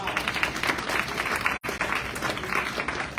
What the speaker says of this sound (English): Give Sheila a round of applause.